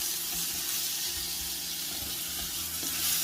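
Onion fries in a pan for Iranian bandari sausage, a steady close crackling sizzle that stays even throughout with occasional small pops.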